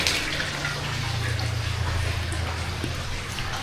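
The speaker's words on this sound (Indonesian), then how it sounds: "Airnya mengalir, ini air dari" A river's water streams steadily along a mountainside on the slopes of Mount Slamet, a close, continuous wash of flowing water with faint voices in the background.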